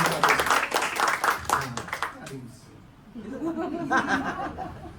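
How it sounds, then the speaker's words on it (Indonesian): A church congregation at a special Passover Sunday service claps with lively, rhythmic applause mixed with light chuckles and laughter. Voices talk through and after the clapping. "boleh tepuk tangan yang meriah"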